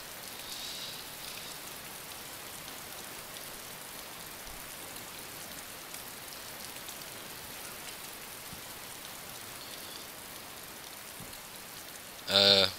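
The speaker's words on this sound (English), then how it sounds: "It's time that the rain stops." Steady rainfall in the video game DayZ, a continuous soft hiss of drops on surfaces that stays even and fairly faint throughout, ending with a brief louder burst.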